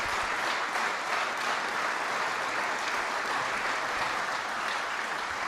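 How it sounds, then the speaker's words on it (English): Sustained, dense applause from a large audience at a presidential speech and executive-action signing event, steady and loud throughout with no break and no voices over it. "Would you give them all another round of applause?"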